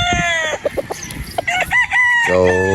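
A gray rooster crossed with Sweater Boston, a straight-comb broodstag, crows loudly and close in two drawn-out calls with clucking and scratching between them.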